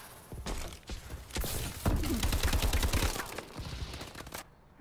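Call of Duty Advanced Warfare firefight with rapid gunfire bursts, loudest through the middle and easing off near the end, along with a few thuds and scattered impacts.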